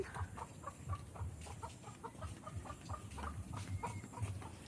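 Chickens cluck in short repeated bursts around a small farmyard at a rural home, several birds calling close by in an uneven rhythm over light background noise, with no talking.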